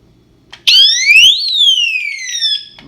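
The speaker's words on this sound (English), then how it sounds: "when the power goes out, this little alarm starts sounding" A small power-outage alarm on an inverter setup for a CPAP/BiPAP breathing machine sounds a loud, continuous electronic tone sweeping upward then slowly falling, starting abruptly after a faint click and sustaining alone without talk.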